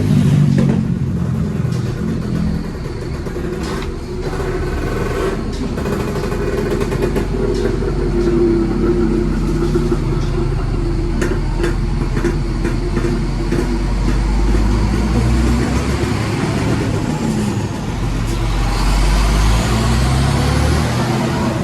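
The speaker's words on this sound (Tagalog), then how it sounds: "Lalakas ng motor. Lalakas ko ng motor." Several motorcycle engines rumble and rev continuously nearby at a fiesta, a loud, layered drone with rising and falling throttle bursts and faint background voices.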